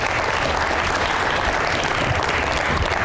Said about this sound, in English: Big round of applause for Joe Dougherty.